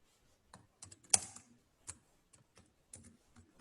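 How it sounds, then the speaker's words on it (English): Computer keyboard typing as Java code is entered, a run of separate key clicks in short bursts with pauses, one louder keystroke early on, close and clear with no talking. "So we'll do something like we write tax"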